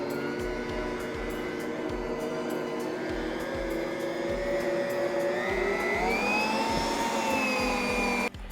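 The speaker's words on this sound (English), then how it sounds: "really let the mixer do a lot of work for you" A Power Horse stand mixer kneads sticky kolache dough in a kitchen. Its steady motor whine runs throughout with a rhythmic low thumping, and the pitch rises as the load shifts toward the end.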